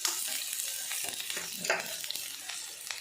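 A large onion and ten garlic cloves sauté with rock salt in a pan, a steady soft sizzle running throughout with a few stirring scrapes and occasional spatters.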